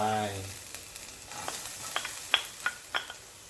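Chopped garlic dropped into hot oil in a wok, frying with a steady sizzle and scattered sharp crackles and pops, close and alone, the sizzle starting softly and the pops growing more frequent.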